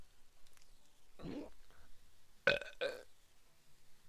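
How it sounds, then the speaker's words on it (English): A gamer burps during a live stream: one low burp followed by two louder, sharper ones close to the mic, over faint background noise. "I will keep burping."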